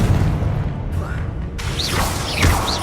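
A Confringo spell explosion in the Hogwarts Legacy video game, a booming burst with crackling mechanical clatter amid dense combat noise and a voice.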